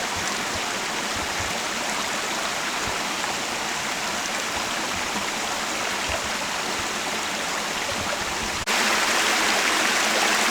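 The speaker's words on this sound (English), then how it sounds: "this would be the top of said waterfall and stream" Waterfall and stream in a Japanese garden flowing steadily, a dense continuous rush of water that holds at one level with a slight shift near the end, with no voices.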